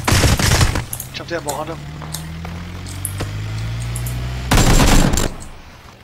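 Bursts of close, loud gunfire from PUBG crack out at the start and again near the end, with quieter scattered shots and a low engine drone between them while a voice gives quick orders.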